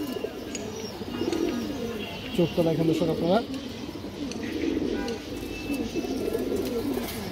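Pigeons, including a female, coo in soft repeated bubbling calls under someone talking close by, with one louder rolling coo in the middle.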